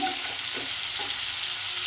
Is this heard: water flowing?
no